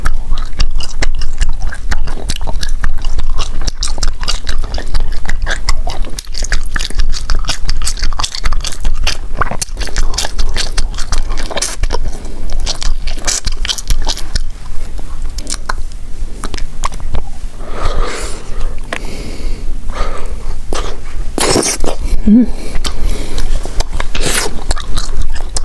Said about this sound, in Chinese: 你嚼的时间长了它越嚼越软